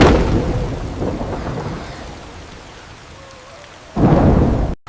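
A thunderstorm with heavy rain and wind roars steadily, loud and broadband, easing slightly midway before a sudden louder burst of rumbling downpour near the end.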